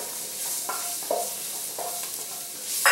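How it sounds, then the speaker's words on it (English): Purple cauliflower tumbles into a pan of vegan Thai curry, giving a soft continuous sizzle with several light scraping stirs and a louder clatter near the end, close by and without talk. "At this point, I'm going to be adding my purple cauliflower."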